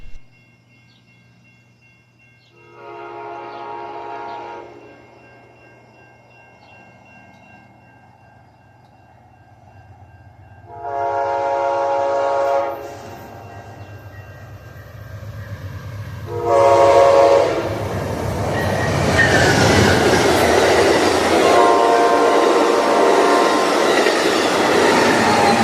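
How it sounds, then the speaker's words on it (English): Amtrak train P365 passes with its K5LA horn sounding several long chords that grow louder and bend in pitch as it approaches, then a loud sustained roar of rolling cars and wheel noise. "I just wanted like extra Doppler because the horn was beautiful"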